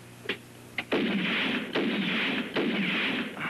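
Three heavy gunshots in a spaghetti western scene, each a sharp crack followed by a long booming echo, evenly spaced and loud after a couple of short clicks.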